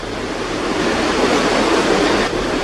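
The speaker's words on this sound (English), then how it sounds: "As you can hear, it's very," Strong wind blowing across a graveyard in Haworth, a loud steady broadband rushing roar buffeting the microphone, swelling slightly in the middle, with no voices.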